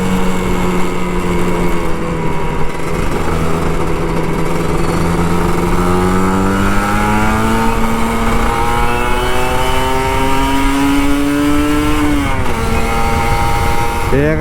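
Kawasaki Ninja RR 150 two-stroke motorcycle riding fast: a loud, raspy engine held at high revs, the pitch climbing steadily through a gear, a quick dip at a shift, then rising again, with constant wind roar.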